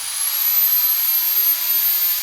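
An electric drill runs continuously at a steady high whine, a thin, even motor tone with a faint hum underneath, heard close and alone with no talking.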